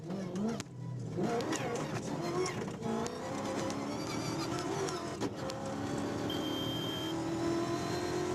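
Rally cars, including a BMW X3, race flat-out on an open section of a desert rally route, with loud revving and accelerating engines and overlapping motor roar throughout.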